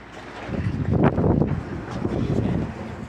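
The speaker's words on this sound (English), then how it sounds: "Pretty windy, man." Wind buffets the microphone in broad, rumbling gusts, swelling loudest around the middle and staying rough throughout.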